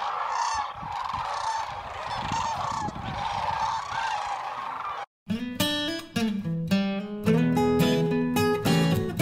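Snow geese in a small flock mixed among sandhill cranes honk in a dense, overlapping chorus that breaks off briefly, then returns as closer, louder, clearer repeated honks and calls.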